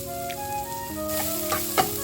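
Ginger garlic paste sizzles and fries in a hot pan for an egg capsicum snack, a steady close crackle with a faint hum and a few sharp stirring clinks near the end.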